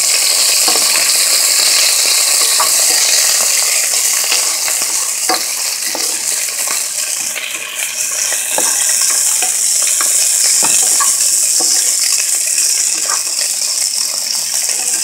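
Beef and broccoli are stirred in a hot pan under a constant loud sizzle, with scattered scraping clicks and light rattles from the utensil and no talking.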